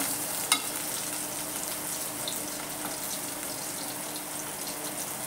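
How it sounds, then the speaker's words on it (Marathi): Boiled potatoes frying in hot oil in a pan for sabudana khichdi, a steady close sizzle throughout with one brief clink early on. "आधी बटाटे चांगले परतून घ्यायचे."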